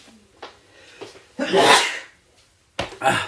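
A single loud sneeze with a sharp intake of breath beforehand, followed by a second sneeze-like burst a moment later, close to the microphone.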